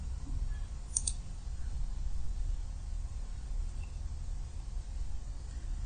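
Computer mouse clicks while navigating a website, a quick pair of sharp clicks near the start and then only a low steady hum.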